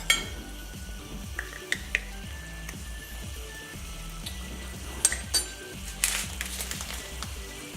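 Pieces of meat for sesame beef with green beans sizzle in a hot pan while being stirred, with a regular scraping rhythm of the utensil and a few sharp clinks against the metal.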